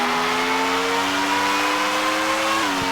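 F1 car engine in F1 World Grand Prix 2000 holding a high steady whine as it accelerates flat out, pitch rising slowly before a quick gear-change dip near the end.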